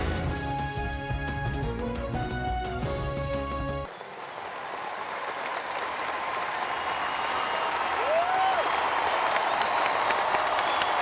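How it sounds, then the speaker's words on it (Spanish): A large stadium crowd at the Estadio Nacional gives a massive, sustained ovation of applause and cheering for Luis Guillermo Solís as he enters the pitch, following a brief stretch of music. "La ovación fue masiva."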